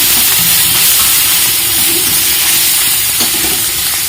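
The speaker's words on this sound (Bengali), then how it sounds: "গ্রেট করা পেঁয়াজটা ভালো করে কষিয়ে নিতে হবে।" Grated onion sautés in hot oil for a mourala fish curry, a close, continuous sizzling hiss with faint stirring scrapes and no voices.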